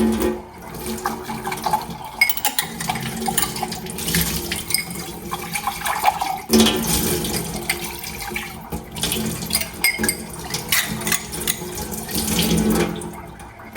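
Kitchen sink tap running while a few dishes and glasses are rinsed, a steady close splash of water with shifting clatters and bursts, no talking.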